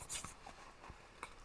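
A Clenna pen writes in a weekly planner journal, making soft, quiet scratchy strokes in a few short bursts close to the page, with no talking.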